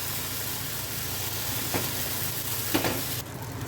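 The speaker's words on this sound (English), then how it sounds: "Now I am going to put the batter to prepare the Uttappa." Millet uttappa batter sizzling on an oiled pan, a soft, steady frying hiss with a couple of brief scraping or stirring sounds and no talk.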